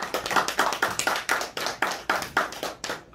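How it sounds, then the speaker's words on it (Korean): Audience clapping to welcome Professor Jeong to a lecture hall, a small group's claps landing in a loose, pulsing rhythm, close and fairly quiet, with no talking. "여기에 모실 때 큰 박수로 환영해 주시기 바랍니다."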